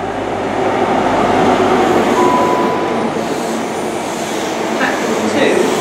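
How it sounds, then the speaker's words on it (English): A class 220 Cross Country Voyager diesel unit pulls into Newton Abbot station on a Paignton service, a steady loud engine rumble and rail roar with a brief wheel whine, and a voice talking over it. "It's a class 220 cross-country Voyager service to Paignton, calling it Torquay and Paignton."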